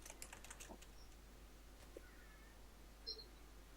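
Quiet computer keyboard typing, with a few clustered keystrokes near the start and sparse faint clicks afterward over a low steady hum.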